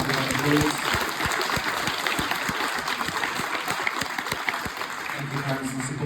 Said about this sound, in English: Those guys give a round of applause.